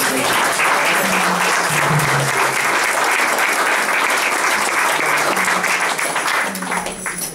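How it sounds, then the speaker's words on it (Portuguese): A church congregation gives loud, sustained applause at the close of a sermon, dense clapping filling the space evenly with faint voices and tones beneath, tapering slightly at the very end. "E dê ao Senhor uma salva de palmas."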